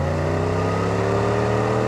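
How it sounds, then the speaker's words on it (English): The V8 engine of a fictional SUV in Car Parking Multiplayer hums in a steady, loud, close drone, holding an even pitch through the short stretch with no voices over it. "But the V8 engine sound and acceleration are great."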